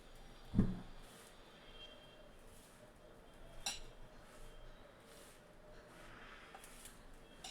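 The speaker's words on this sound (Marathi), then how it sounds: "याला चांगलं आता मिक्स करून घेते" Roasted sesame seeds being stirred into a sweet laddoo mixture in a bowl with a spoon, with a sharp clink of metal on the dish early on and then faint scraping and soft clatter, quiet and close, without speech.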